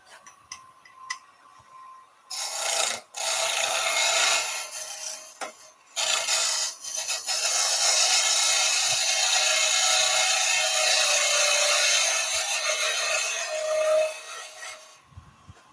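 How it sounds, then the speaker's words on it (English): A beading and parting tool cutting wood on a lathe, heard as loud, sustained rasping bursts of the cut broken by short pauses, with faint ticking in the quiet gaps. "we'll go straight to that beading and parting tool"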